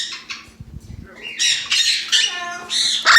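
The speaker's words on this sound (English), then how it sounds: "you could hear all the birds" Many birds squawk inside a bird rescue. Loud, close, overlapping harsh calls come in bursts, one after another, with brief quieter gaps between them.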